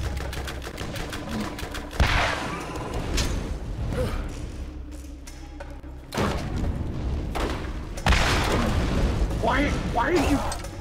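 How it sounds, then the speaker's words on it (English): Grenade explosions in the Borderlands video game, several sharp booming blasts at about two, six and eight seconds, mixed in with gunfire and clattering combat noise, while voices talk throughout. "Grenade!"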